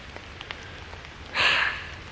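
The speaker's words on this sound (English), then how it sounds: "it's going to start raining again." Rain in the woods patters faintly with scattered drops, then swells into a brief louder burst of falling water before easing back.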